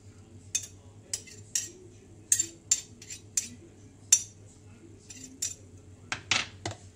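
Chicken pieces tossed with white pepper in a bowl, giving a series of soft clinks and scrapes of a utensil against the dish, irregular and close, with no talking.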